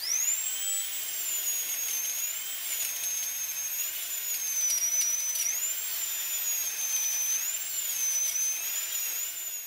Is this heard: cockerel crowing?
no